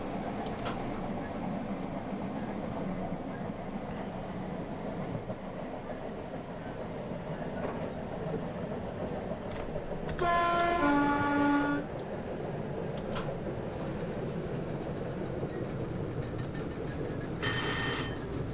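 A Class 313 electric train on the North London Line in the OpenBVE simulator, running with a continuous rumbling, rattling drone, a brief horn-like tone in the middle and light clanks near the end.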